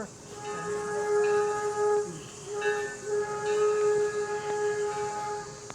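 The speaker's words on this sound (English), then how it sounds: "There's the train." A steam train whistle sounds in long, steady tones at Greenfield Village, sustained over a continuous background hiss of steam, fairly loud and close.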